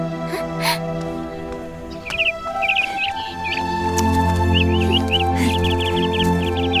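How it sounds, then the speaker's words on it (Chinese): Caged siskins in an indoor palace setting giving quick, high chirps and short twittering bursts, close and fairly clear over a low hum, with faint background sounds. "哪来的黄雀啊"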